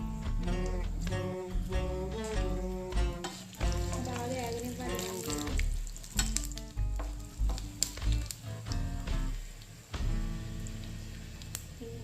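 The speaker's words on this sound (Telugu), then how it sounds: "ఆయిల్ ఇటెక్కింది కదా చిన్న ఎల్లిగడ్డలు కట్ చేసుకొని అట్లా ఒక ఐదు ఆరు" Small cut garlic cloves sizzling in hot oil for a rasam tempering, a steady close frying hiss with stirring scrapes, under loud background music throughout.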